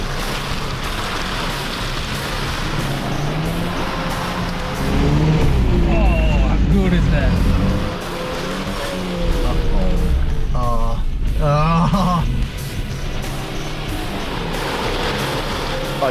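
A 4WD ploughs through muddy holes on an Otways bush track, its engine held at a steady throttle and swelling louder in two surges as it pushes through, with water and mud sloshing, while a person talks over it.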